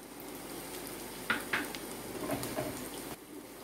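Prawns frying in a pan over a medium flame, a steady close sizzle with a few sharper pops and crackles, no talking.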